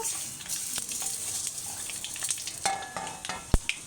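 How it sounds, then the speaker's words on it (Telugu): A tempering of groundnuts, chana dal, urad dal and small thin dried red chillies frying in oil, heard close as a continuous crackling sizzle with stirring scrapes and a sharp knock near the end, no talk. "ఈ పోపు బాగా వేగాలండి"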